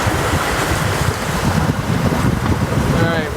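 A boat driven by a Torqeedo Cruise short-shaft electric outboard running at full throttle on open water, with steady loud wind and water rush and a low churning rumble throughout, no pauses.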